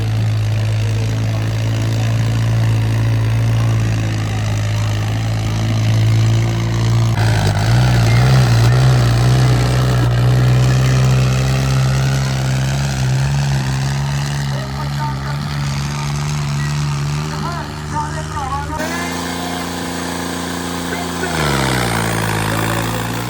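A tractor engine at a trolley-pulling competition rumbles loud and steady with a deep throbbing drone, revving and shifting pitch, while voices and crowd noise run underneath.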